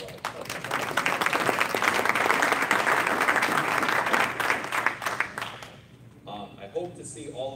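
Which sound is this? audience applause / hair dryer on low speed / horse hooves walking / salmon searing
audience applause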